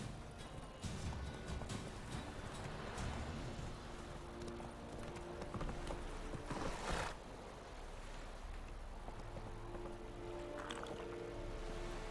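A horse gallops in the video game The Witcher 3, with a steady rumble of hoofbeats under game ambience and a sharper burst partway through, at moderate loudness.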